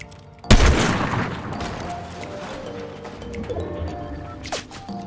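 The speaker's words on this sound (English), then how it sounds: "I also got shot at from behind here" Gunfire in the Fortnite video game during a ranked match, opening with a loud, close blast followed by a sustained roar of shots and rumbling, with another sharp burst near the end.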